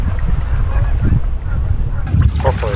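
A goose with goslings on a riverbank gives a few short honks, heard from a canoe on high water, partly masked by strong low wind rumble.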